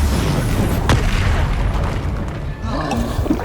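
A Depulso force blast in the Hogwarts Legacy game: a loud, heavy boom that rumbles on under dense game sound, with a sharper crack near the middle.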